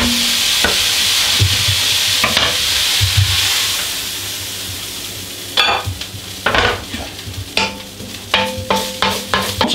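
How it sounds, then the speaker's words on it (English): Beef frying in a hot pan, with a loud continuous sizzle and hiss that later gives way to repeated scraping and clattering as it is stirred. "We're just going to like fry this for about 4 to 5 minutes."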